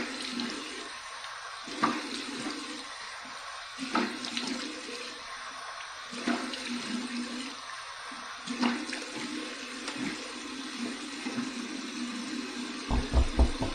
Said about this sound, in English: here's my final cold water rinse